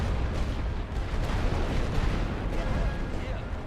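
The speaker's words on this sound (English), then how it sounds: "The full might of the German artillery." German artillery bombardment in The Great War: Western Front rumbles as a continuous dense barrage of distant booms, under a voice talking.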